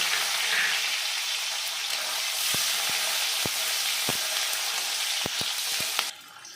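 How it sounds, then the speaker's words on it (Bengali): Chopped onions frying in hot oil for a tilapia curry, a steady loud close sizzle with occasional sharp ticks and pops from the pan, then a sudden drop in level near the end. "দিয়ে দেবো কেটে রাখা পেঁয়াজ কুচি"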